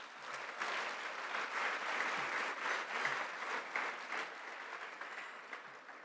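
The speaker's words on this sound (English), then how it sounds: "Please, once again, join me in giving Secretary Becerra another round of applause" Sustained audience applause for Secretary Becerra at a NALEO annual conference luncheon: a dense, steady wash of clapping from a large crowd that continues for the whole stretch, with slight swells and no speech over it.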